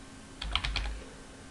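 A brief burst of four or five computer keyboard keystrokes, close and fairly soft, over a low steady background hum, entering code during a programming lesson.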